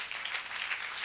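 An audience at a prophecy and prayer service claps, a short burst of steady applause, moderately loud and without speech.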